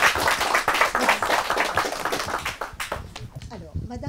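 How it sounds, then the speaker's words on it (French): A bookshop audience at a literary event claps for a few seconds, a dense patter of hands that thins out toward the end while a voice speaks over it. "on va applaudir très fort"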